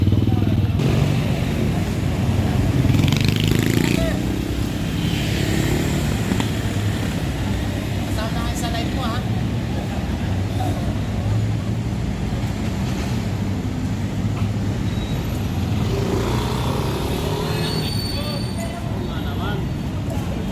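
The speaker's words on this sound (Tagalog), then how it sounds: "Medyo mahaba guys ang uh, pila ng motor kahit gabi na ayan ang mga driver, ang mga tricycle na nakapila." Tricycles idling in a long queue at night, a steady low engine rumble with mechanical chatter, close by, with a voice talking over it throughout.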